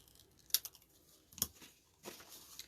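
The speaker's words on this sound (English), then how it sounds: "I'm going to hold them together and just cut a piece off" Scissors snipping a small strip off two greeting cards held together, a few quiet, close crisp cuts with soft paper rustle in between.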